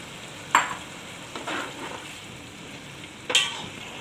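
A spoon scrapes and stirs fried masala with tamarind in a pot for chana pulao, three distinct scraping strokes spaced apart over a faint, low sizzle.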